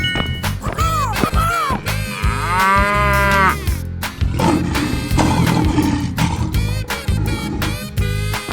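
A cow moos in a 3D animal slide video game, a loud drawn-out call sounding over busy, continuous game music and effects.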